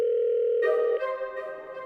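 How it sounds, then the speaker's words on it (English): A telephone tone from a music video holds loud and steady for about a second, then carries on more faintly under the song's music, with no talking. "And the telephone keeps going"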